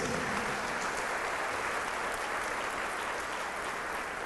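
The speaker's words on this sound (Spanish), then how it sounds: "un aplauso grande para ustedes" Dense, steady applause from a large congregation at a Catholic preaching event on the Eucharist, a continuous wash of clapping with no gaps.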